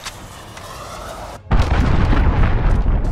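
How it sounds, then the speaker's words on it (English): A cruise missile strike in the shooter game Call of Duty Modern Warfare, a quieter rumbling din abruptly giving way to a loud, sustained roaring explosion and rolling boom that fills the rest of the moment. "Allied cruise missile launched."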